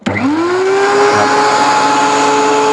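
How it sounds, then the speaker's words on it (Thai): A DeWALT DW735 thickness planer switches on with a sharp start and spins up into a loud, steady, high-pitched motor whine that runs on alone without pause. "เดี๋ยวเรามาลองเปิดเครื่องเลยแล้วกั นนะครับ"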